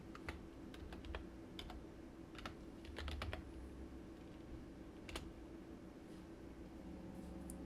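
Computer keyboard typing, a name being entered during a game about buying milk, comes as scattered quick key clicks over steady low background hiss, soft and fairly close.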